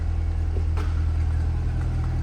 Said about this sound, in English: listen to this NPP exhaust idling